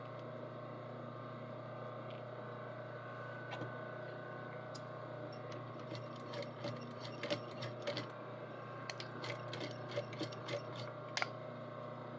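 A sewing machine top stitching runs with a steady mechanical hum and rapid needle ticking, quiet and close, with a few sharper clicks near the end.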